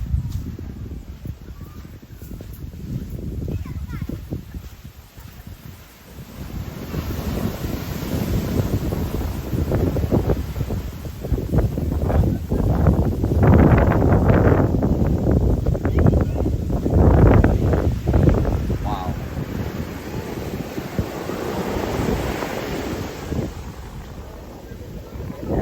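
Wind buffets the microphone over surf rolling onto Grande Anse beach in Guadeloupe, a steady loud roar with swelling waves, some voices faintly mixed in.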